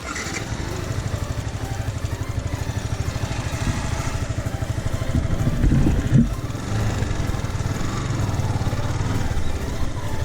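Motorcycle engine idling on a ride through Jambughoda Wildlife Sanctuary in Gujarat, India, a close, steady low-pitched putter with rhythmic mechanical clatter that swells slightly midway.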